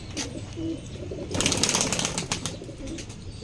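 Pigeons coo softly in a loft while a burst of flapping wings rises in the middle as birds take flight, close and fairly loud, with no voices.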